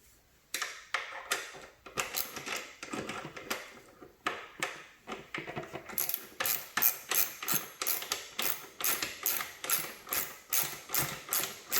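Ratcheting wrench clicks steadily while a screw is backed out on a Kawasaki Vulcan S 650 motorcycle during a luggage rack install, bursts of rapid close ticks repeating in a regular rhythm with brief pauses, no talking.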